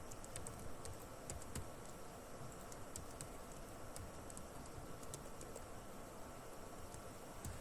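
Typing on a computer keyboard during a Java and Android programming class, a quick irregular run of light clicking keystrokes over steady background hiss, fairly faint and without talking.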